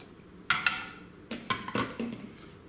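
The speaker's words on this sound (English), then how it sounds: "we are going to go ahead and add our rice" Rice goes into a cooking pot with a few sharp metallic clinks and clatters: a burst, a pause, then a cluster of knocks and scrapes close by in a quiet room.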